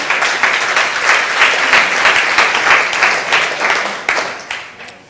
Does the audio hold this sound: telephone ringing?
no